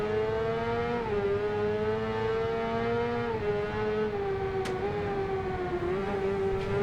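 Video game race car engine whining and revving steadily near and loud, pitch dipping and climbing as it exits corners, no voices.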